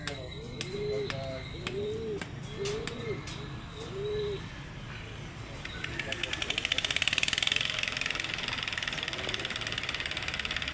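Soft, repeated pigeon coos in the foreground over a steady engine-like hum, with occasional clicks and a brighter hiss building later.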